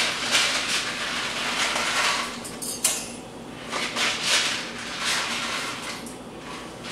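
Dry Kraft Dinner pasta dropped by hand into a pot of boiling water, with scattered rattling clatter and light metallic knocks over a constant bubbling hiss.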